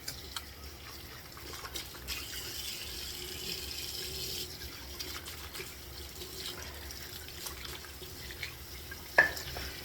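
Hot water runs steadily from a bathroom tap at a sink during a wet shave, a continuous soft hiss with a brief louder splash near the end, no voices over it.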